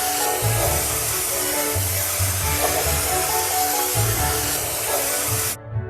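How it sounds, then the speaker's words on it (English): A video-game spray gun paints over a stain on a ship with a loud, continuous airy hiss over light game music, stopping abruptly near the end. "Let's drag the spray gun along the stain to paint it."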